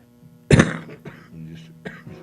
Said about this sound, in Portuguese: desculpa aí a tosse